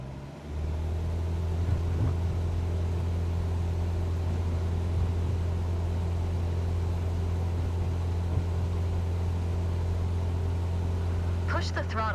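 A light aircraft engine in Microsoft Flight Simulator 2024 hums in a steady low drone as it throttles up toward 2,400 RPM, holding an even tone throughout with a voice speaking over it.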